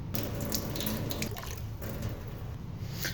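Steady rush of water pouring from a sink tap, continuous and close, splashing into the basin without pause.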